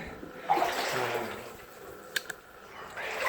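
Splashing and sloshing of boots through shallow water on rail ties inside the Lucky Jim Mine, with a few soft wet steps and echoing drips in an enclosed space, faint to moderate.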